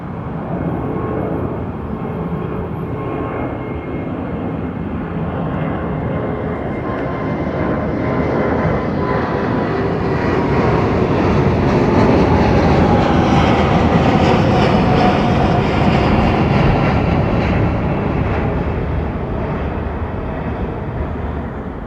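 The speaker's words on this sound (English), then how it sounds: "Shallow departure, pretty typical of the Dreamliner." A Boeing 787 Dreamliner making a shallow departure from Heathrow Airport as United flight UA919 produces a broad, rising jet roar that swells to a loud peak mid-clip and then slowly recedes, heard from a distance.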